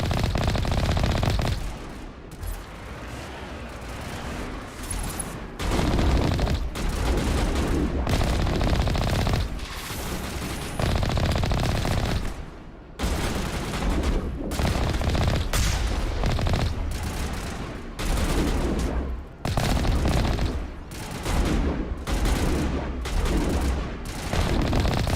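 Sustained bursts of automatic gunfire from the Mass Effect video game, set on the planet Noveria, loud and close with rapid repeated volleys separated by brief pauses across the whole stretch.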